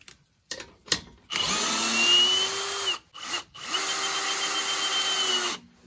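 An Einhell TE-CD Li BL cordless drill drives wood screws, with a few short trigger blips followed by two long, loud runs of the motor, each winding up to speed and then cutting out.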